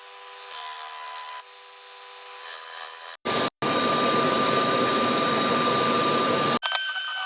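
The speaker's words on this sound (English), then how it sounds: "I'm now using the orbital sander just to finish off on with a higher grit than what was already on the sander earlier" Orbital sander fitted with a higher grit paper finishing a wood workpiece, a steady loud whirring drone that starts and stops abruptly, with quieter workshop handling noise before it.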